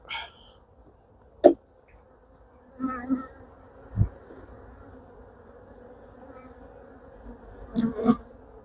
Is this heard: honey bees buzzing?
yes